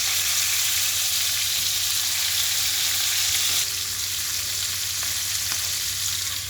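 Hilsa fish with eddoe fries in a pan over a medium flame, giving a dense, even sizzle that carries on steadily throughout, close up, with no talking.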